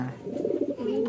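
Racing pigeon cooing close by, a single soft throaty coo rolling on for about a second.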